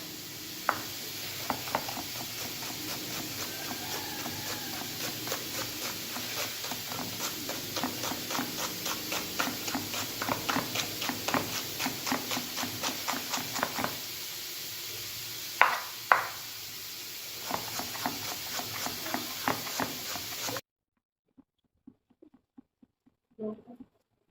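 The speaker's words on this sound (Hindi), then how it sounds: "एक बड़ा प्याज ले लेना है और इसको हम बारीक चॉप करते हैं" A large onion is finely chopped with a knife on a board, a rapid, even run of crisp taps close by lasting about twenty seconds, with brief pauses before trailing off into near silence.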